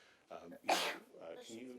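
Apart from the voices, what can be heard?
sneeze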